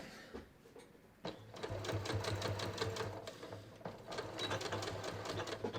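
A sewing machine runs in close, rapid bursts while stitching a lapped zipper, its needle chattering in a quick, even rhythm with short pauses between runs.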